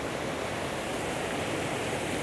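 Winterbrook Falls in Tasmania pours in a steady, dense broadband roar, constant and close, with no voices.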